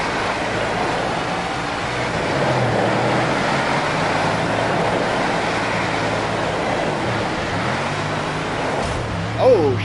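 A dirt race car engine in a World of Outlaws racing video game at Kokomo, droning steadily as the throttle feathers on and off, with a faint whine near the end.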